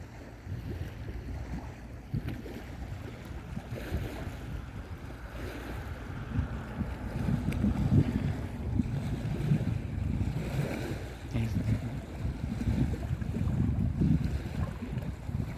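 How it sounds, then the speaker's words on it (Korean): Sea waves rolling onto the shore on a windy evening, a low continuous surging roar with gusty wind buffeting the microphone, swelling louder in the second half. "바다도 이렇게 울렁울렁"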